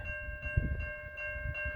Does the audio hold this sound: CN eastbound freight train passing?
yes